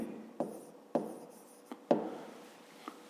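A pen writing on paper during a fifth-grade maths exercise makes a few short, sharp scratchy strokes with quiet pauses between them, close and soft, with no talking.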